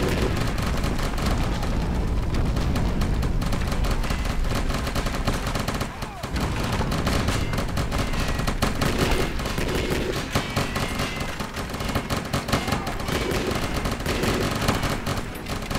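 Dense, continuous gunfire from the video game Shadow Harvest: Phantom Ops, rapid automatic bursts layered into a loud, sustained barrage with barely a pause, briefly dropping around the middle before resuming at full intensity.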